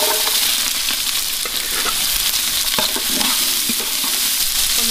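Onions and cinnamon bark sizzle steadily in hot oil for a meat curry, with scattered scraping clicks as a spoon stirs them through the pan. The frying is loud and close throughout, and no one speaks.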